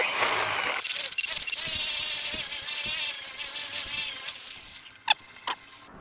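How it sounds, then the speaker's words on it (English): An angle grinder fitted with a wire wheel brushes across rusty scrap metal, giving a steady loud scraping whir for about five seconds before cutting off, followed by a couple of short clanks. "Now we'll take the grinder with the wire wheel and just run it across."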